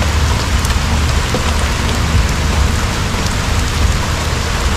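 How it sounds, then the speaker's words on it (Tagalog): Steady, dense rain pours down continuously, a loud close hiss of drops hitting leaves and surfaces with no break, heard on a morning motorcycle ride. "Sinabayan pa ng ulan."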